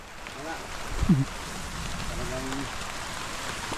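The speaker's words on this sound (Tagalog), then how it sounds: "Lakas na po ang ulan." Heavy rain pouring down steadily over a rice field at harvest, a constant wash of hiss with a brief louder thump, under people speaking.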